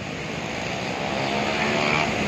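A motorcycle with its silencer removed on a mountain pilgrimage road between Gangotri and Kedarnath gives a loud, raw, continuous engine roar that swells slightly louder toward the end, with no voices.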